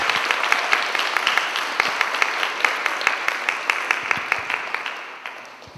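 Steady applause from an audience at a Catholic Sunday school catechist training symposium, dense clapping that holds for several seconds and then begins to thin out toward the end.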